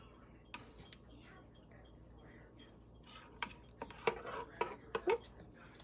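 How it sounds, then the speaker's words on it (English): A spoon stirring creamer into a cup of coffee with milk: light, sparse metallic clinks and taps against the cup, growing louder toward the end, with quiet speech early on. "Let me just stir this up here a little bit."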